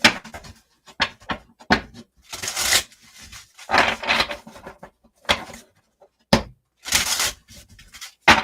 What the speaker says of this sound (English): I think I'm going to do cards for Ellen.